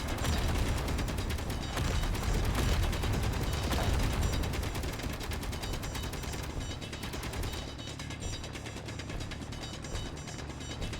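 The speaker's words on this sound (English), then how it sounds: "Hearing gunfire." Gunfire in a survival video game, a dense continuous clatter of shots layered over steady mechanical and ambient game noise, loud and unbroken throughout with no speech.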